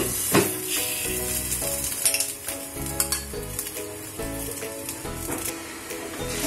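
Onion and masala sizzle in hot oil in a pan while Kolhapuri misal is being made, a steady frying hiss broken by clinks of a spoon stirring against the metal pot.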